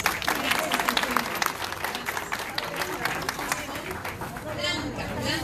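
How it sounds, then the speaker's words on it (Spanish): Strong audience applause at the inauguration of a naturism centre, a dense wash of clapping that holds steady throughout, with crowd chatter and a voice mixed in. "Así es que vamos a darle un fuerte aplauso."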